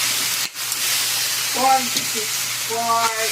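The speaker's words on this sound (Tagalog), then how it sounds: "So, nag-iihaw tayo na rin po sa kawali." Pork barbecue sizzles while grilling in a frying pan, a steady broadband hiss and crackle with a faint hum beneath, and a voice briefly speaking over it.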